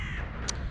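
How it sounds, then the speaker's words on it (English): Crows cawing outdoors near seagulls and pigeons: a single brief, harsh caw rises over steady background noise. "So we have a nice little group of crows and a few seagulls."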